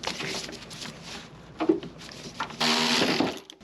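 A T40 driver works loose a tailgate strut bolt on a 2007–2013 BMW X5 (E70): bursts of rattling, grinding tool noise with short pauses and a louder sustained stretch near the end, fairly close.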